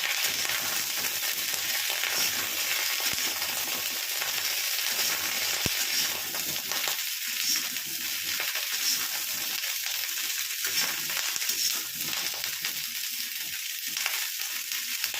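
Cauliflower florets with a little salt fry in a pan, giving a dense, continuous close sizzle that crackles steadily throughout, with faint stirring and no talk.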